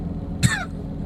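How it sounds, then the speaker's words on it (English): One short, sharp cough, close and distinct, over a quiet low hum. "This cough does not want to go."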